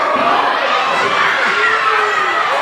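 A wrestling arena crowd during a Fabio versus Bullet Smyth match roars with steady, dense cheering and shouting, a loud continuous wash of voices with no breaks.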